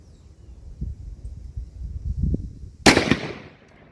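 Single sharp report from a Mossberg Patriot Predator rifle in 6.5 Creedmoor firing handloads, a loud crack with a short decaying tail after a few seconds of quiet rumbling background.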